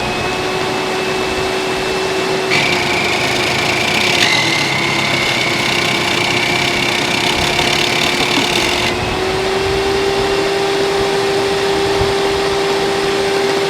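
A Hoover Dimension Supreme vacuum cleaner runs steadily with a loud, constant motor whine, its tone shifting briefly as the load changes, close and alone without talk.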